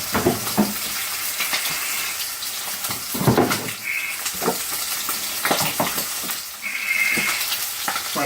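Pork chops sear in a hot pan with a loud, steady sizzle and crackle, broken up by scraping and shifting sounds as the meat is moved around, without any talking.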